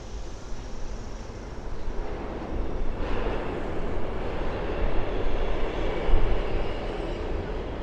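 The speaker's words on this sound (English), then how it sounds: "You hear the G train underneath me." A New York City G subway train rumbles beneath a Bed-Stuy, Brooklyn street, a steady broad low roar that swells slightly partway through and holds, with no talk over it.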